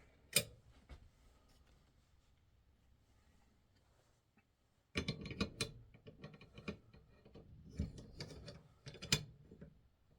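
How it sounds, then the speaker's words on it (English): Rifle bolt worked against a go gauge in a barrel chamber, quiet metallic clicks and scrapes at first, then a busier run of close mechanical clatter and ticks. "we're just going to put the go gauge in the chamber and carefully try to close the bolt"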